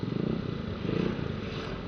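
A motorcycle on the road ahead, its engine putting out a pulsing, throbbing drone that stays close and fairly loud throughout.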